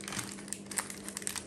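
A plastic seasoning packet from instant noodles crinkles close up in a short burst of crisp, rustling crackles.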